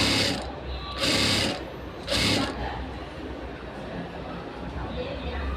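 A tailor's sewing machine runs in short bursts while stitching folded cloth seams, with steady mechanical rattle under a voice talking nearby.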